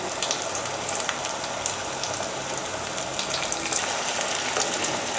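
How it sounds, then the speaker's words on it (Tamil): Onions frying with asafoetida in a pan of hot oil for a tempering for banana stem and chana dal kootu, a steady broadband sizzle and crackle with no talk. "வெங்காயம் வந்து பரட்டி விடுங்க."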